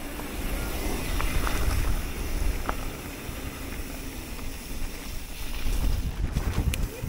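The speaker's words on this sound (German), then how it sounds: "Es ist sehr windig." Strong gusting wind roars across the microphone during a mountain bike ride on a Specialized Levo, a heavy, continuous rumble that rises and falls and has faint clicks and rattles in it, with no talk.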